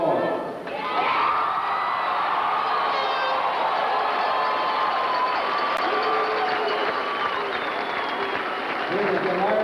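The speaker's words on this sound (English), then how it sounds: "This is the largest crowd ever witnessed. A Junior A National Tournament." Large arena crowd at a 1986 Junior A national hockey championship in Sioux City, Musketeers versus St. Clair Shores Falcons, roaring and cheering in a sustained wall of noise with applause and shouts throughout.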